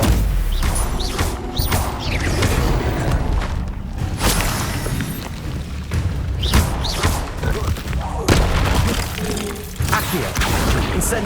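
Magic spell effects such as Incendio and Levioso fire off in Hogwarts Legacy, a dense run of whooshing blasts, booms and crashing impacts that come one after another with almost no gaps, set over a busy game backdrop.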